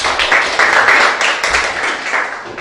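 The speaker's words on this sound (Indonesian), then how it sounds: "Oke, berikan tepuk tangan buat kita semuanya." A classroom full of people claps together in a dense burst of applause, loud and close, rising and falling slightly before trailing off.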